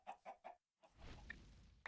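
Three short synthesized chicken clucks in Minecraft with the ATM 10 modpack, close and evenly spaced, followed by a pause and then a steady low game rumble with a brief blip.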